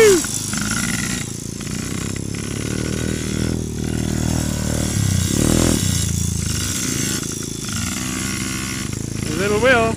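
Kids' motorbikes being ridden, buzzing small engines revving up and down in repeated bursts close by, with people cheering and talking over them.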